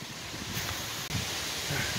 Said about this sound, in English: The wind is not good for recording,